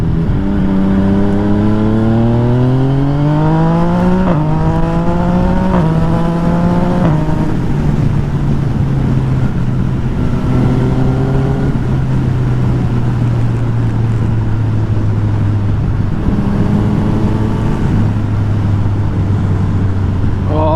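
Yamaha MT-09 motorcycle, freshly serviced and fitted with a new steering damper, its engine revving repeatedly through rising and falling pitch sweeps, loud and close with a steady throaty drone between the revs and no talk over it.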